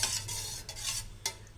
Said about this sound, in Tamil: சிம்மில் வச்சே நம்ம இதை கிளறணும்